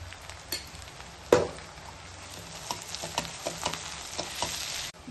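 Curry leaves and turmeric crackle and sizzle in hot oil for an egg curry, a steady fry punctuated by sharp pops and spatters, close and clear with no voices.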